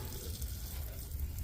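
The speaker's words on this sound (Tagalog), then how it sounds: "Kaya mga kabayan, spray natin ang brake cleaner kabayan." Brake cleaner sprays onto car fuel injector parts in a short, close, continuous hiss lasting little more than a second.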